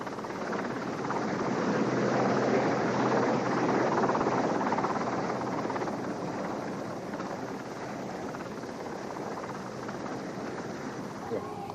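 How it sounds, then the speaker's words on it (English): Helicopter flying near the snowy summit of Ben Nevis in icy conditions, a steady broadband rotor and engine roar with wind buffeting, loud at first and easing slightly as it continues. "taking each sortie with Dave Clem's helicopter nearer to the limit"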